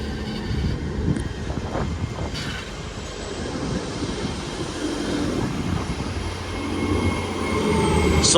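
A Class 800 bi-mode train pulls into Cardiff Central station, a steady broad rumble of engines and wheels that swells slightly louder as it nears, with a faint high whine overhead and no talking.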